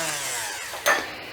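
A blender whirs through vegan carob brownie batter, wet and dry ingredients combined, giving a steady, close motor drone that briefly surges louder near the end, with no voices.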